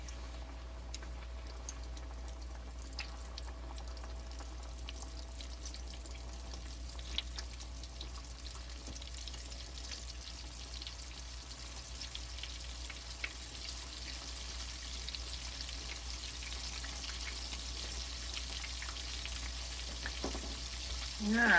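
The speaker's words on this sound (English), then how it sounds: "We're going to let them fry until they're golden brown." Chicken pieces for a copycat Chick-fil-A recipe fry in oil as a steady, even sizzle, close and moderately loud, unbroken for the full stretch with a faint clatter near the end.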